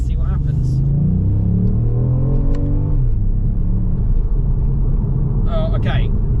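A 2024 Ford Puma ST with a 1.0 EcoBoost mild-hybrid engine pulls hard under full throttle, its engine note climbing steadily for a few seconds before levelling into a loud, constant drone heard from inside the car.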